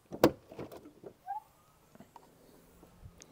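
The boot of a Renault 19 car with tired gas struts is opened, giving a sharp latch click followed by soft thuds and a brief creak, close by and quiet.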